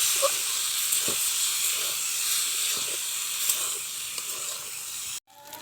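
Noodles frying in a spiced pan give a steady hissing sizzle with faint occasional stirring scrapes, stopping suddenly just before the end.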